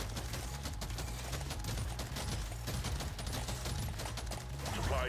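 Rapid gunfire from a dwarf shooter video game rattles on continuously, dense repeated shots filling the clip with a brief swell near the end.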